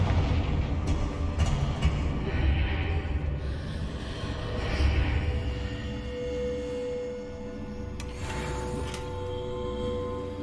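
A Confringo blasting spell in Hogwarts Legacy, heard as low rumbling booms and crackling impacts over a dense, steady game soundscape, with a brighter burst near the end.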